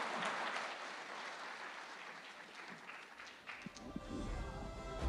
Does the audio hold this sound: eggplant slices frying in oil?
no